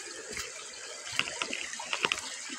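Water running and splashing in a river among bamboo, a soft continuous flow with small bright trickles and drips close by.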